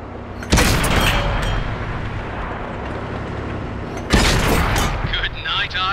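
A Challenger tank's main gun fires twice in World of Tanks, each shot a loud, sharp boom roughly four seconds apart, with a steady low engine rumble underneath.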